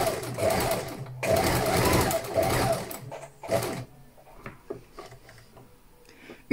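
Sewing machine stitching a buttonhole in reverse, its needle running in a steady rapid rattle for the first few seconds, then pausing and giving shorter bursts and scattered clicks.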